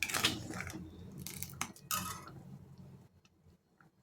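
Sabudana kheer, a sweet sago pudding made for fasting, is served onto a plate. Spoon and dish clinks come in a few close bursts early on, then fade to quieter scraping.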